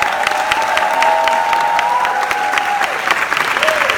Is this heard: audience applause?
yes